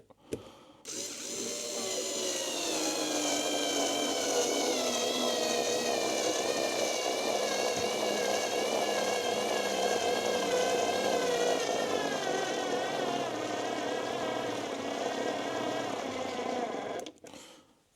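A Flex electric screwdriver drives a 4x40 screw with a steady, strained motor whine that holds for about sixteen seconds, pitch wavering slightly under load, then stops abruptly.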